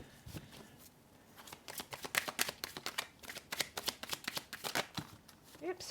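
Tarot cards are shuffled by hand in quick, crisp riffling bursts, a close and fairly quiet run of rapid flutters and taps lasting several seconds.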